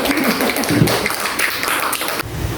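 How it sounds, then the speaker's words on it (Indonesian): An audience at a school teachers' dissemination session gives brief, close applause, a short burst of clapping with a few taps and thumps that cuts off abruptly near the end. "Aplaus dulu untuk Bu Uci."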